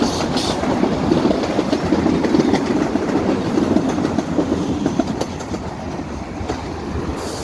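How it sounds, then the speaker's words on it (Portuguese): A train passes close by on a street in Campo Grande, Rio de Janeiro, with a continuous rumble and rhythmic clickety-clack of wheels on rails throughout, and no talking. "Ó o meu carro, ó o trem!"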